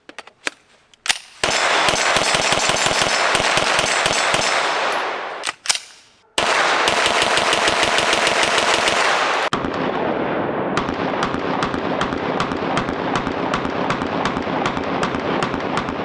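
A Springfield Kuna roller-delayed 9mm PDW fires long, rapid strings of shots, loud and close, with a brief pause before the fire resumes and continues steadily.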